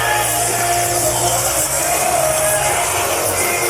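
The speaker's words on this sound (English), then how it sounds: "The crowd is at capacity here inside the Action Building. They are loud and rowdy and ready to go" A capacity wrestling crowd inside the Action Building roars loud and rowdy, a steady dense wall of cheering and chatter that holds without a break, with a voice faintly under it.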